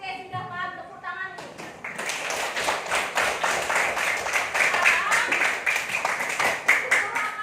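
Classroom of students clapping their hands together, a dense, sustained burst of many overlapping claps after a teacher's brief spoken prompt, fairly close and lively.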